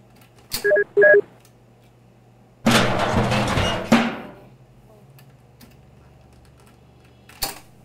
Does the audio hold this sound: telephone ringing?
yes